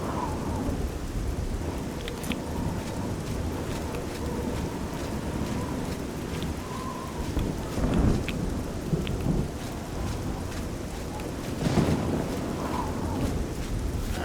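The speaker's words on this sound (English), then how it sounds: "That rain is coming down." Steady rain pours and rumbles of thunder roll through a stormy scene in the Elder Scrolls: Oblivion video game, with louder thunder swells around the middle and near the end, no talk over it.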